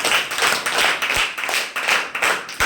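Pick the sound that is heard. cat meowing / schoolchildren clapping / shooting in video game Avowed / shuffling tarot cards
schoolchildren clapping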